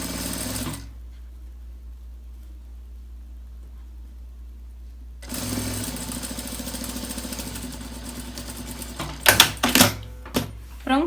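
A domestic sewing machine stitches fabric for a small zip pouch, first a brief whir, then a few seconds of near silence, then a steady close mechanical chatter that ends in several sharp louder clunks.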